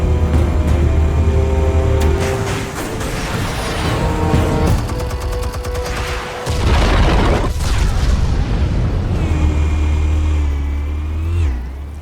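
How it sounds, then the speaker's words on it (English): Explosives detonate in Batman: The Telltale Series, a heavy booming blast with rumbling low-end and crackling debris that swells, cuts off, then bursts again before fading into a lingering tone. "Explosives armed. Fire when ready."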